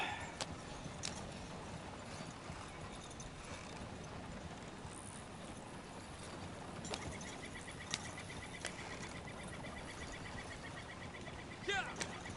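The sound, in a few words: horse galloping hooves in video game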